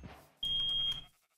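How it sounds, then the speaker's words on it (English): A fire alarm going off, a high steady electronic tone sounding loudly for about half a second, then cutting out and starting again briefly at the end. "Bro, whose fire alarm is going off?"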